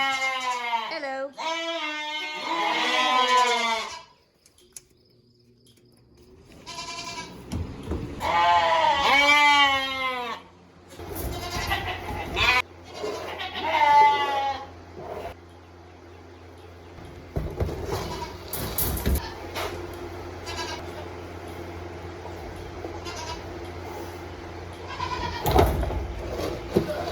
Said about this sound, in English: And we got new goats.